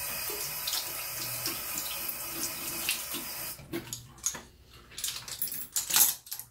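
Tap water runs steadily into a sink to wet the tips of makeup brushes. A constant hiss gives way to intermittent splashing and dripping as the brushes are moved under the stream.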